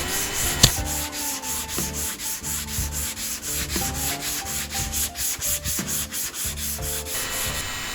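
Hand sanding with 120 grit 3M sandpaper on the body of a 1972 El Camino, a close, steady rhythmic rasp of back-and-forth strokes with no talking.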